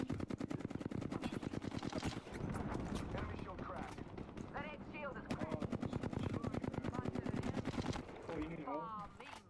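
Rapid enemy gunfire in Apex Legends, dense bursts of automatic shots crackling throughout with brief pauses, mixed with game effects and people talking over the action.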